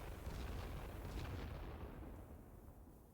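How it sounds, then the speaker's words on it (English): Distant mortar barrages shell trenches in The Great War: Western Front, a low, rumbling wash of muffled booms that gradually fades, faint and without distinct individual blasts. "my mortars will keep these trenches suppressed"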